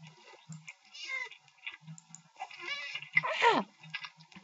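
A cat in the video game Minecraft gives a short, falling meow near the end, among faint clicks and other quiet game sounds.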